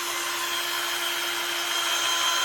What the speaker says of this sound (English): I can pretty much drill backwards.